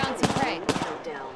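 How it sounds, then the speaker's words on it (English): Rapid video game gunfire crackles in a close, loud burst of several shots layered over game sound, with a second volley after a brief dip. "Getting shot at."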